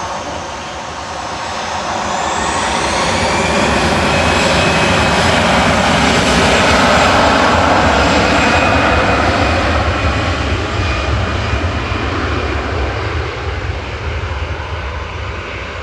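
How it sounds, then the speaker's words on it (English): A Logan Air propeller plane lands at Manchester Airport after a go-around, its engine drone swelling loud and near, then holding a steady roar before easing slightly, with no voices. "Logan Air's just touched down as well."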